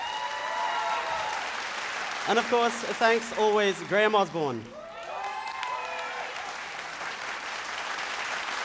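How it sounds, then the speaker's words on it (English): Television singing-contest studio audience claps steadily for the judging panel, a moderate wash of applause that continues under and after a host speaking over it. "Round of applause."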